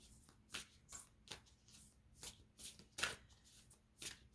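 Tarot cards shuffled by hand in a quiet room, a series of crisp riffling bursts in an uneven rhythm, close and clear with no talking.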